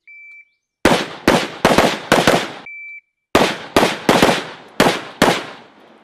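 A timer beep starts each string of fast shooting-drill gunfire, four loud sharp shots in quick succession, then another beep and five more close, ringing shots.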